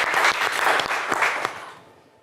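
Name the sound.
studio audience applause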